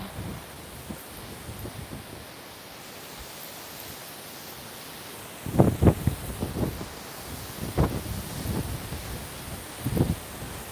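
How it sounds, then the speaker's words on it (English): Wind gusting through woodland on a walk near an old sand quarry, a steady broadband rush with several louder buffeting gusts hitting the microphone in the second half. "Wind, go away."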